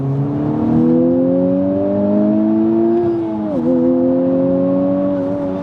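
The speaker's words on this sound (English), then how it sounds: "Now let's let this turbo spool up real quick." A used Honda Civic Type R's turbocharged engine revs and holds a rising whine, dips sharply, then climbs again as the turbo spools, loud and close with no talking.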